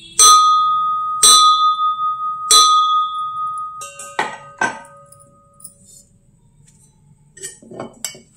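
An antique bronze puttu pot rings bell-like when struck three times, each tone decaying slowly, followed by softer metallic clinks and knocks as the pot and its lid are handled.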